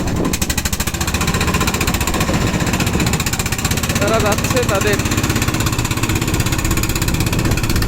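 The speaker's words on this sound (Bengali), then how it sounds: "এই যে নৌকাটা স্টার্ট দিয়েছে মাত্র" A motor boat on the Padma river at Urakanda, Rajbari starts up and runs with a loud, steady, rapid chugging throughout, while someone talks over the engine.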